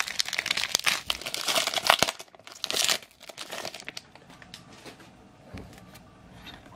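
Crinkly plastic foil of a Pokémon Hidden Fates booster pack being torn open, loud close crackling and rustling bursts over the first few seconds, then quieter handling.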